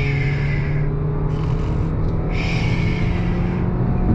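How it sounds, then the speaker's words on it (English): A 2022 Nissan Sentra SR with a 2-liter engine and CVT accelerating on throttle, heard from inside as a steady droning engine hum with tire and road rumble, the pitch holding fairly constant as the car pulls. "I'm gonna go on throttle"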